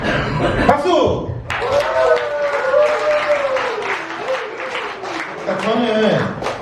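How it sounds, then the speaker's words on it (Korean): A church young adults' group claps for a couple called to the front, brisk applause mixed with chuckles and overlapping voices, a soft thud at the start before the clapping swells and carries on under talk. "박수!"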